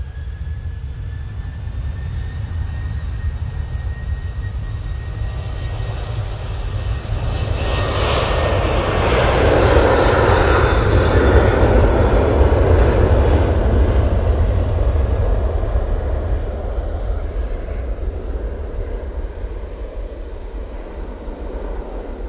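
Jet2 airliner jet engines at Manchester Airport, a broad continuous roar that swells louder in the middle as the aircraft passes nearby, then eases slightly, with no talk.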